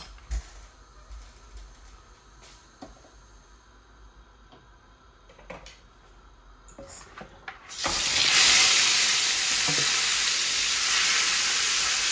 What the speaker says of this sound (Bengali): একটা ফ্রাই প্যানও বসিয়ে দিয়েছি মাছগুলাকে ভাজবো বলে